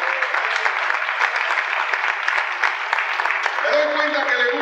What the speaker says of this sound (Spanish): Un aplauso al Rey de Dios.